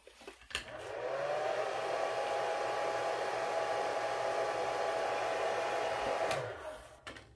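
Hot air blower running steadily for about six seconds to dry a vintage Coro jewelry piece after cleaning, a loud close whooshing rush that starts and stops abruptly.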